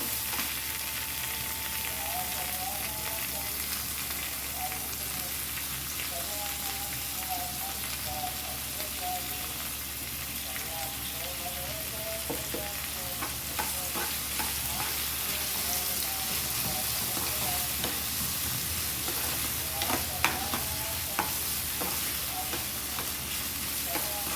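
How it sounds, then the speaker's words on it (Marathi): Onion frying and being stirred in a pan for a Malvani dried shrimp dish, making a long, dense, steady sizzle like light rain, with sporadic close scrapes and clicks from stirring. "कांदा चांगला परतून घेते।"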